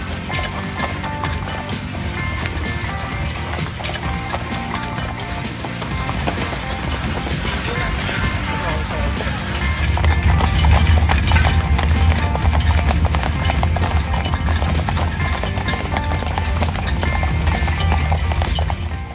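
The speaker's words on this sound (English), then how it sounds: "We enjoy a short trot through town" Horses trot with a steady clip-clop, pulling a restored Cobb & Co stagecoach through an outback town at Longreach, Australia; the hoofbeats are loud and continuous over wheel rumble and jingling harness, with no talk.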